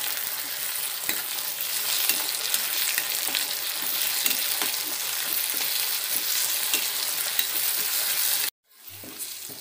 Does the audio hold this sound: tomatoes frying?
yes